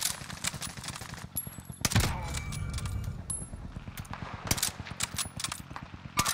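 Rapid gunfire from firearms in the Warzone shooter game, crackling bursts and single shots spread through the moment, fairly close and loud, with a heavier blast near the middle.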